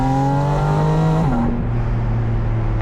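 A Porsche 718 Spyder RS with a 4-liter, 9,000 rpm flat-six revs hard, its rising wail cut by a quick throttle blip on the shift before the note resumes, loud and close from inside the cabin.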